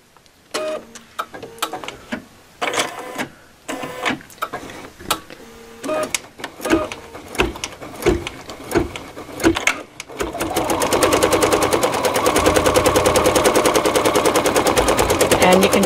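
A DesignWorks embroidery machine stitches a decorative outline on a cutwork coaster in high-contrast thread: irregular clacking bursts with pauses at first, then a fast continuous needle rattle that runs steadily to the end.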